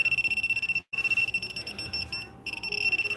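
A hidden camera detector alarm keeps beeping indoors, a rapid, continuous high-pitched pulsing tone that cuts out briefly twice before resuming.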